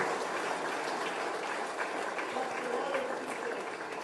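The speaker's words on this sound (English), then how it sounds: "Give them a big round of applause." An audience claps for kids at a public event, a steady, dense wash of applause that stays even throughout the clip.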